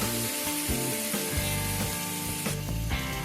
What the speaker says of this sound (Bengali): 3 থেকে 4 মিনিট সময় নিয়ে মশলার সাথে মাটনটাকে ভালো করে কষিয়ে নেব